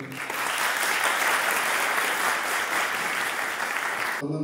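Sustained audience applause fills a symposium hall, a dense steady clapping that holds evenly for about four seconds before stopping abruptly.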